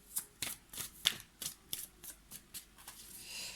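Tarot cards being shuffled by hand, about a dozen crisp riffling flicks in an even rhythm, close and clear, with no talk.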